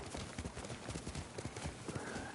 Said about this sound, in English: My controller is actually rumbling every time the horse gallops.